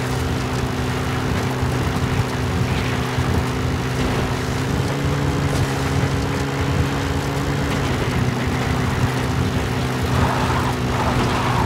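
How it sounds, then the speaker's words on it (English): Support helicopter in the video game Metal Gear Solid V: The Phantom Pain, a loud, steady engine and rotor hum droning without a break, close and constant. "A support helicopter requested"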